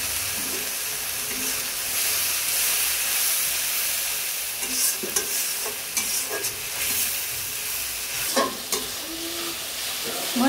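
Spice paste sizzles and hisses steadily in a hot pan for chicken khichuri, with scraping stir strokes and occasional clinks from the utensil breaking through the continuous frying noise.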